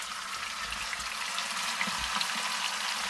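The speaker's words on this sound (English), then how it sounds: "We're just gonna throw them in the pan and brown them on all sides" Short ribs browning in a hot pan, a steady low frying hiss, fairly quiet and unbroken, with a couple of soft dull thumps underneath.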